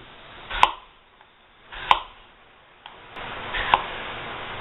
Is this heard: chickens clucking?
no